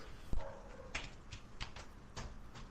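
A dog at home barking in short scattered yips and woofs, several sharp bursts spread across a few seconds, faint and somewhat distant.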